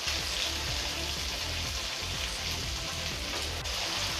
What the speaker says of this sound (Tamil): நல்லா கொஞ்சம் ஃப்ரை ஆகட்டும்.